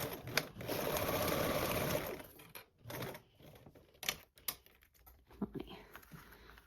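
A sewing machine stitches a seam in a quick burst of rapid, even needle chatter lasting about two seconds, followed by softer handling noises and brief taps close by.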